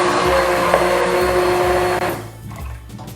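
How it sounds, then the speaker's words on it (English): A Cuisinart Smart Stick immersion blender whirring through tortilla soup, a loud steady motor whine with churning liquid that stops abruptly about two thirds through, leaving quieter kitchen noise. "Alright, this is called a stick blender."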